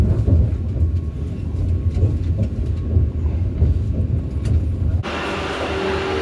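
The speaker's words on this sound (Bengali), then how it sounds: "116 কিলোমিটার রাস্তা অতিক্রম করে আমাদের ট্রেন কিন্তু খড়গপুর জাংশনে এসে পৌঁছালো রাইট টাইমে" Vande Bharat Express train rolling into Kharagpur Junction, a steady low rumble of wheels and carriages throughout, ending with an abrupt shift to a brighter station ambience.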